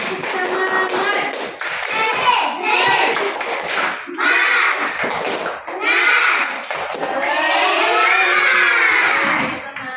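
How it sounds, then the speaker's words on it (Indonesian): Primary school class doing the tepuk semangat clapping chant, children shouting words in unison over rhythmic rounds of hand claps, lively and close. "Tepuk semangat."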